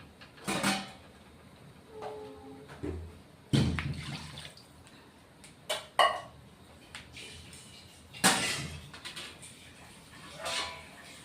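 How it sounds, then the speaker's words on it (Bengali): Water goes into a pan of sautéed spice paste for a small rohu-fingerling (charapona) poppy-seed fish curry, coming as several short, soft splashes spread across a quiet background. "এবার জল দিয়ে দেব"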